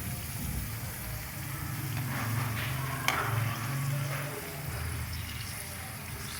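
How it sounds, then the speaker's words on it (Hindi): Food frying in hot oil for an iftar spread gives a continuous low sizzle and bubbling under a steady stove rumble, close by, with one brief sharp clink partway through. "दोबारा से ऑयल अच्छी तरह से गर्म करके तो फिर ये सारी शामिल करनी है।"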